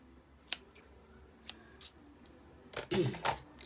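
Ribbon scissors snip through braided linen trim in a few sharp, close cuts: single snips spaced apart, then a quicker cluster of crisp closing sounds near the end, in an otherwise quiet room with no talking.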